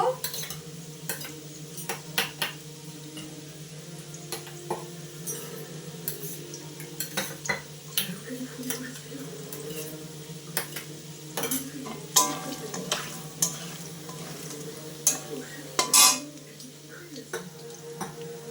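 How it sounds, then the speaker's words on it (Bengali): Chili chicken mixture stirred in a pan with a little water, a spoon repeatedly clinking and scraping against the metal under a soft sizzle, with a faint hum throughout. "এইটার মধ্যে আমি একটুখানি জল দিয়ে এটাকে মিশিয়ে নেব।"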